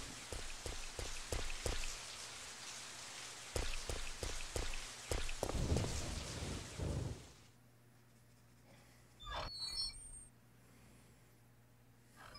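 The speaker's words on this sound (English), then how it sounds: "When did it start raining?" Rain falling in Resident Evil 3, a dense hiss of drops with sharp splashy impacts over the first seven seconds, then dropping to a quiet hum with one brief burst near ten seconds.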